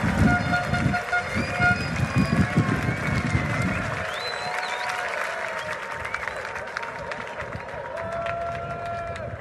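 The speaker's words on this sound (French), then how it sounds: "accueillons-le en l'applaudissant chaleureusement" A large church audience applauds to welcome Bishop Barron, with dense clapping for about four seconds that then thins out and fades beneath sustained tonal sounds.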